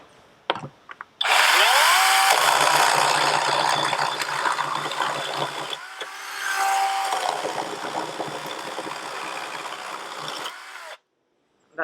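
An INGCO battery-powered chainsaw whirs up to speed with a rising electric whine, runs hard and loud, revs back down and then up again, and cuts off abruptly near the end.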